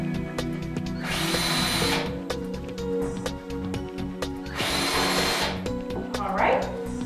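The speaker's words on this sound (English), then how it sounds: "Now, we want to drill pilot holes." A power drill whirs in two separate bursts, each about a second long, drilling pilot holes for caster wheel screws, over steady background music.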